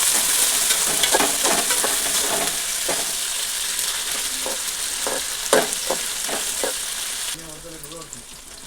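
Onions and green chilies fry in a pan with a loud, continuous sizzle, broken by repeated scraping stirs, and the frying fades toward the end.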